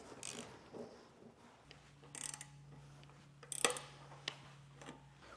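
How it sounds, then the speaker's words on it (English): A hand ratchet with an 18 mm socket tightening a ladder rack bolt on a 2022 Chevrolet Express van, giving faint, intermittent clicking bursts over a low steady hum, with quiet gaps between strokes. "when you tighten this down, I recommend grabbing the bar so it doesn't spin on you"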